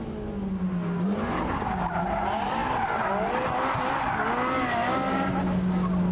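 A racing car engine roars close by, its note rising and falling as the throttle blips on paddle downshifts, with a rough, busy engine texture throughout and no speech.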